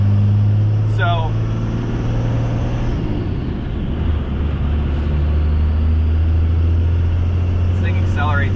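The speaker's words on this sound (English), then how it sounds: "this thing accelerates very nicely" A dually hotshot pickup truck accelerates while towing a 15,000-pound trailer, its engine a loud, steady, close drone that holds through the whole stretch, with someone talking over it.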